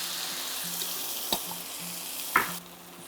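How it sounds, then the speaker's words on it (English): Marinara sauce sizzling as it hits a hot pan that has just held cooked chicken, a steady hiss with a couple of brief clinks of a utensil, near and moderately quiet, with no talking. "And now we are going to add some marinara sauce."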